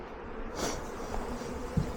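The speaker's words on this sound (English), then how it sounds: "You can see a lot of bees on there." Dense, steady insect buzzing from many honeybees around a hive frame during an inspection, close by, a continuous hum with a brief louder swell midway.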